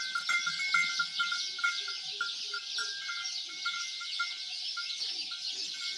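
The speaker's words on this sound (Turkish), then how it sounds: "Bu arada sabah binlerce kuş." Many birds chirp and call together on a village morning, a faint, busy chorus of repeated high notes with no voices.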